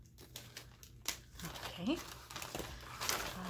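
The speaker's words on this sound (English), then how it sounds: "trying to open this without breaking the bag" Crinkling and tearing of a plastic mail bag sealed with scotch tape, close and continuous, as someone works it open without breaking it; a brief spoken word comes in over the rustle.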